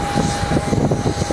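Airbus A400M military transport aircraft at the Fairford airshow, a steady broadband engine roar with a wind-like wash, continuous and moderately loud with slight pulsing.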